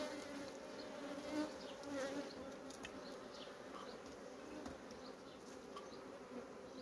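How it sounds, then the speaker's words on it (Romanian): Honey bees swarm around an opened hive colony infested with varroa mites, their dense, steady buzzing filling the air continuously and close by, with no voices heard. "Albinele atacă din toate direcțiile."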